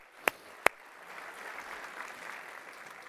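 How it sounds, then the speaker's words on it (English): Applause for Mayor Bass at an opening gavel ceremony: two sharp, isolated claps, then a faint, distant wash of clapping building from the crowd. "How about that big round of applause?"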